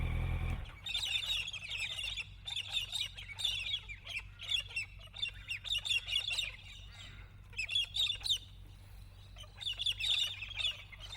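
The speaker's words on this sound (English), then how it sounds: "The birds weren't the only things that were going to sing to me that evening." Birds chirping and twittering in repeated bursts over a low, steady rumble, fairly close and moderately loud.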